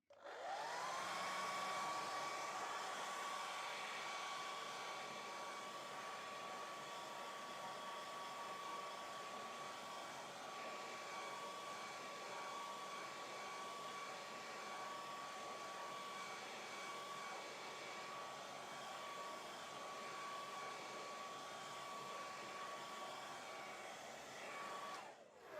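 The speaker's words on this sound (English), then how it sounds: "I'm gonna just use the hairdryer" Hair dryer drying a watercolour painting, a continuous steady whir with a fixed whine that runs alone and unchanged for the whole stretch before cutting off at the end.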